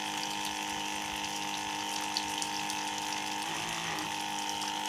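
A farm irrigation water pump feeding drip and sprinkler lines hums steadily throughout, a constant mechanical drone with a rushing, watery hiss on top and a slight shift in tone near the end.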